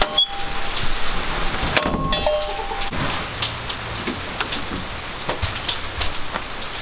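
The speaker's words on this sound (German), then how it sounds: "Es regnet." Steady rain patters on surfaces outdoors, a dense hiss of drops with scattered sharper taps and a few clanking hits, close and continuous throughout without talk.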